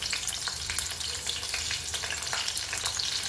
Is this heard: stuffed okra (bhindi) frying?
yes